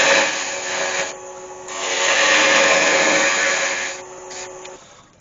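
A wood lathe turns a resin and beech ovoid while a tool sweeps the diameter down, giving a steady close whirring rasp that swells and eases, with short gaps where the cut lightens.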